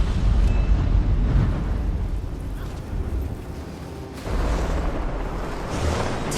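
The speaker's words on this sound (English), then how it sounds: "That bloodstone explosion seemed to trigger some sort of magical echo." A bloodstone explosion in Guild Wars 2 erupts as a loud, broad rumbling roar that fills the start, eases off, then surges back in a second heavy blast near the end.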